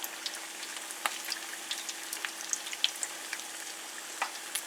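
Shredded beef and cheese flautas crackle in hot oil, a bright steady sizzle dotted with sharp pops and spits, fairly close and with no talking.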